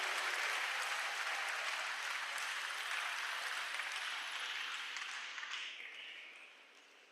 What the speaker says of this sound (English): Another round of applause for Professor S.O.N.